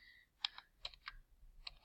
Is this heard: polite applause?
no